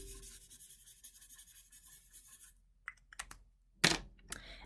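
Sharpie marker colouring on paper, drawing graffiti-style word art: steady, close scratchy rubbing strokes for a couple of seconds, then a pause followed by a few short, sharper squeaky strokes.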